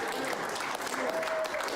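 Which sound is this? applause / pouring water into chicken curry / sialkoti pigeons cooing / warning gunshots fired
applause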